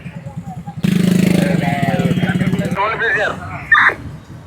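A motorcycle with an unusual-sounding silencer, ridden the wrong way down a one-way street, idles and revs close by in a steady pulsing rumble that begins abruptly. People talk over and after it.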